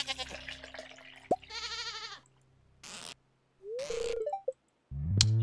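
A goat bleats in the Stardew Valley farming game, several short wavering calls separated by gaps, alongside other brief game sound effects and a little speech.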